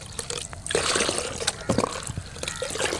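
Organic liquid fertilizer made from kitchen waste is stirred with water at a one-to-five ratio in a glass, giving soft close trickling and splashing with small clinks and drips.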